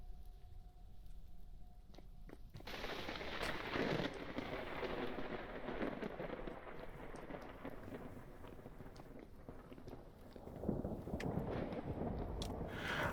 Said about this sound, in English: I hate that because of the rain, I can't hear anything.